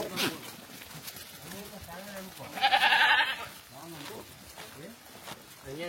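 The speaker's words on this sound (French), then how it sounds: "Le troupeau de chèvres." A herd of goats, trailed by a herder among the ruins of Hampi, India, bleats in a brief, fairly loud burst amid crowd chatter and outdoor bustle, with people talking throughout.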